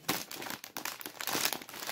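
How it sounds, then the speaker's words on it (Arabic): A plastic bag of Lolo Puffs snacks is torn open and crinkled, with loud, close, continuous crackling and sharp bursts of rustle throughout. "ونفتح الكيس الخامس"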